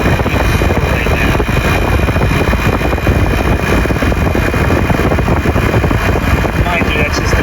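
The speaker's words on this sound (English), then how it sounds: "The compressor's running, and you can see that it recorded 23 amps in startup." An air conditioner compressor fitted with a soft starter runs with a loud, steady mechanical drone and rattling hum, close by and continuous with no pauses.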